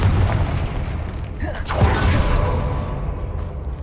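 A Confringo blasting spell explodes in the Hogwarts Legacy video game as a deep boom with a swooshing burst, over continuous rumbling game audio.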